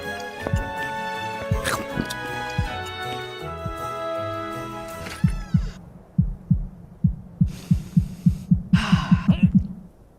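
A heartbeat sound effect from the Henry Stickmin game comes in after loud music fades, repeating as a steady run of deep, throbbing thumps that speed up toward the end, with bursts of metallic bending noise over the top.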